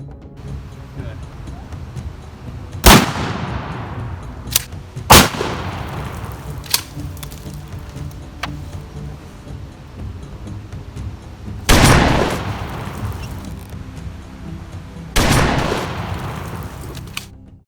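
An M45E 8-gauge and a modern 12-gauge shotgun fire at an outdoor range, four loud, sharp blasts spaced several seconds apart, each with a short ringing decay over low background noise.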